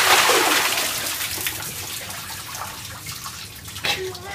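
A loud rush of ice water pours and splashes down at once from a bucket, then trickles and drips as the flow tapers off, with faint voices.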